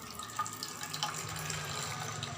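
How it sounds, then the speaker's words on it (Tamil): Water poured off the top of soaked wheat into another vessel, a soft continuous trickle and splash with a couple of small clinks, fairly quiet and close, no one speaking. "மேலே உள்ள தண்ணியை மட்டும் இன்னொரு பாத்திரத்தில் ஊற்றிட்டு கோதுமை பாலை மட்டும் நம்ம இப்போ எடுத்துக்க போகிறோம்"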